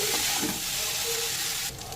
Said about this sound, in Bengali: এবার ভালো করে একটু মিশিয়ে নেব।